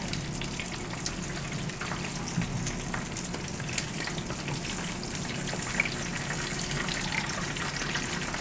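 Korean egg rolls fry in hot oil with a steady, close crackling sizzle and bursts of spattering that keep going with no letup.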